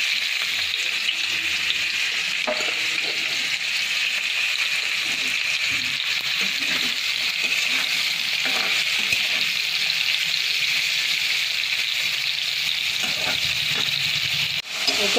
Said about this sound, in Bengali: এবারে আমি মাশরুমটা ভেজে নেব